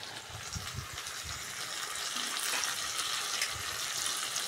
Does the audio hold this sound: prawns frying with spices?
yes